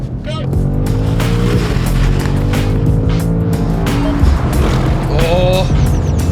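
A BMW M5, Audi RS7 and AMG E63 S drag race side by side, loud engines roaring and shifting up through gears from inside a car, with people talking excitedly over the noise.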